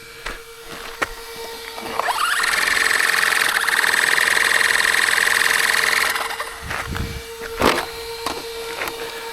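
A 4S RC monster truck's electric motor spins up to a steady, loud high-pitched whine for several seconds after the throttle is applied, then drops away, with scattered clicks and knocks before and after.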